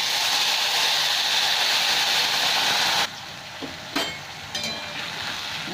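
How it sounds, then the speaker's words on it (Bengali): A paste of ground tomato and ginger frying in hot oil with cumin seeds, bay leaf and a dried chilli, giving a loud, steady sizzle that drops abruptly, followed by a few scraping stirs. "ভালো করে ভেজে নিচ্ছি।"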